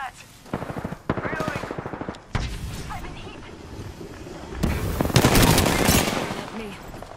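Gunfire in a squad-based shooter video game, rapid automatic bursts close up followed by heavier volleys and loud blasts, the shots coming in quick rattling strings with short gaps between them.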